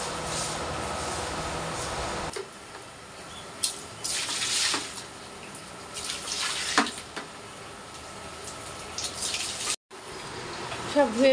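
Water splashes and pours as a room floor is washed clean and the ashes are cleared out. The rushing, gushing water runs close and continuous, broken by a few sharp knocks and a brief pause near the end.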